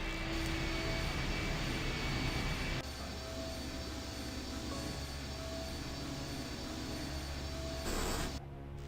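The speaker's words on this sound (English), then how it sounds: "The engine's starting up again." Aircraft engine starting up in the horror adventure game I Have No Mouth and I Must Scream: a loud, steady jet-like roar that drops to a lower sustained rumble partway through, then cuts off abruptly near the end.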